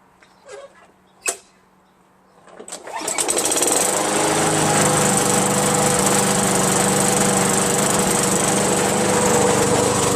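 A Craftsman push lawn mower with a 5.5 HP Tecumseh engine and a freshly cleaned carburetor. A few knocks and a pull come first, then the engine catches and runs loud and steady close by.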